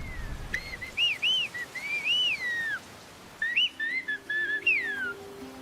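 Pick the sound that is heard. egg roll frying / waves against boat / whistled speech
whistled speech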